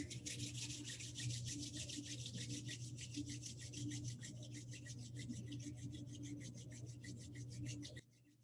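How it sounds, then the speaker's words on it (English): Soles of the feet and palms rubbed together briskly during a Kundalini yoga exercise: a steady, fast, rhythmic swishing friction close up, continuing for several seconds before stopping abruptly. "rub the soles of the feet together and the palms together briskly"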